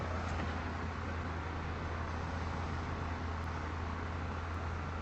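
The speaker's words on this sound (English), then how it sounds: "So this is the tram station." Steady street traffic at a tram station, a continuous broadband roar of passing cars with a low rumble, no voices.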